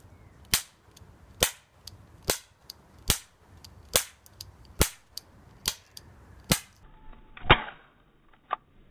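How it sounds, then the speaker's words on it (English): A cheap toy cap gun fires caps in a slow series of about ten sharp, loud cracks at roughly even intervals, each snapping out alone in a quiet room, with one slightly louder, fizzier pop toward the end. "This is what happens when you buy dodgy cap guns and caps from the IGA."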